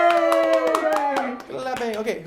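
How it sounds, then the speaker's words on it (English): An audience at a gingerbread house contest claps in quick, sharp bursts, close and steady, while excited voices and children's speech cheer over the applause. "Clapping."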